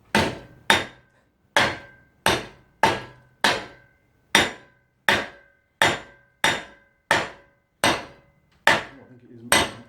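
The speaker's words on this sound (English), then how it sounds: "We need the magic hammer, Sam." Hammer blows striking a scrap AC compressor, about thirteen sharp metallic impacts in a steady rhythm, loud and close, with no speech over them.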